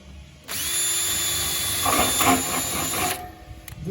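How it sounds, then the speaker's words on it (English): A power drill fitted with a new bit bores a hole, a close, steady high whine that rises in grinding intensity midway as the bit bites in, then cuts off abruptly. "And carry on drilling them there."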